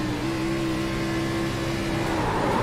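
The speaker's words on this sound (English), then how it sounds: "Oh, he downshifted." A sim racing car in a racing video game drops a gear, its engine note holding a steady whining drone and then shifting pitch as it downshifts, loud and with no talking.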